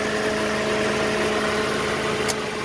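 Ford car engine idling, a steady even hum with a constant low drone and faint vibration, one small click near the end, no talk.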